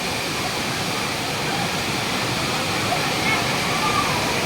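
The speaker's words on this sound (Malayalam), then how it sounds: "അടിപൊളിയാട്ടോ അരീക്കൽ വെള്ളച്ചാട്ടം" A steady roar of rushing water at Areekkal waterfall in Kerala fills the whole clip with continuous broadband noise, with voices of a crowd faintly mixed in.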